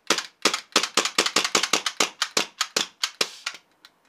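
A KJ Glock 19 gas pistol fires a rapid string of sharp cracking shots, about a dozen close loud pops in quick irregular rhythm, the last few weaker and trailing off.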